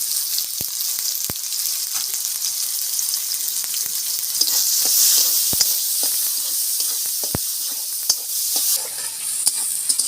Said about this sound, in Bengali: পেঁয়াজ আর টমেটোটা আমার ভাজা হয়ে গেছে